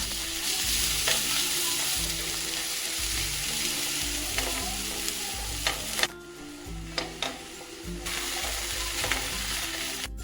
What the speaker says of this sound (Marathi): 4 चमचे तेलावर 1 मोठा कांदा, टोमॅटो आणि वाटण घालून परतून घ्यायचे.